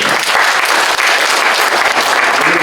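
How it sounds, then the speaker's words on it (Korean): An audience at a smart construction safety forum applauds a presenter, with loud, dense, continuous clapping filling the room for a few seconds. "발표해 주신 우리 회장을 이렇게 한번 박수 한번 주시기 바랍니다"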